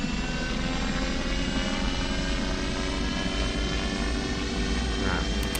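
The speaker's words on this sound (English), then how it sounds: "I'm gonna get the propellers going." Engine and propeller of a heavy autogiro spinning up, a steady loud droning roar with a strong low rumble that holds even throughout.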